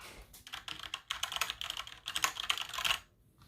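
Fingers type rapidly on a computer keyboard in close, busy bursts of clicking keystrokes. A brief pause breaks the typing before it stops after about three seconds.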